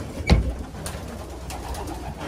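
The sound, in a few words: racing pigeons cooing in the loft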